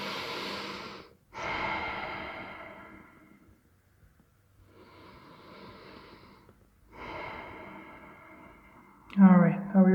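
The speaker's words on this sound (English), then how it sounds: "Let's just take a couple breaths here." Deep, audible breaths are taken during a yoga pose in a class: a few long breaths drawn in and pushed out, separated by quiet pauses, close to the microphone, ending in a short sharper exhale.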